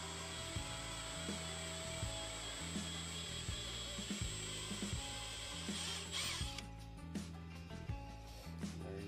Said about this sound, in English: What you're gonna wanna use is a 7/16 drill bit. Drill it out a little bit.